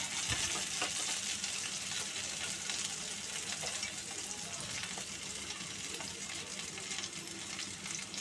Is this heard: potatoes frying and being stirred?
yes